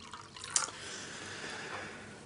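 Water drips and trickles indoors, fairly quiet, with a bright splashy drop near the start and then a soft continuous trickle.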